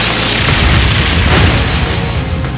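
The Brionac cannon firing in Trails of Cold Steel 3, a loud, continuous booming explosion with a heavy low rumble and broad roaring blast lasting over two seconds.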